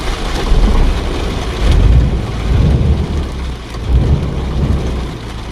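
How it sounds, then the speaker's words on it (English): Steady heavy rain pours in a truck-driving video game, a dense loud hiss with low rumbling swells that suggest thunder and no talking. "Of course, it has to be raining, right?"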